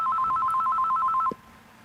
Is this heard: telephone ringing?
yes